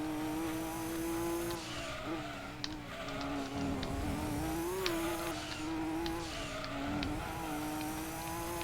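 Race car engine in Gran Turismo 2, held at a steady drone with pitch dips and small squeals as the car brakes and slides through corners, loud and continuous with no talk.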